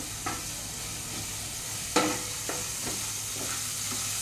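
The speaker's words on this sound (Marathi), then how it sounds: "अशा प्रकारे आपल्याला ते अद्रक लसूण आणि मिरची आपल्याला तेलामध्ये फ्राय करून घ्यायची आहे." Ginger, garlic and long-cut green chillies frying in hot oil make a steady, soft sizzle throughout. A few sharper clatters of stirring punctuate it, the loudest near the middle.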